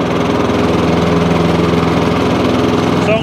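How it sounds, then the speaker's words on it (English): Honda HRX537 lawn mower engine running steadily after a service and carburetor cleaning, a loud, close, even drone with constant throbbing and no changes in speed. "Okay, so now the lawnmower's been running for about 5 minutes."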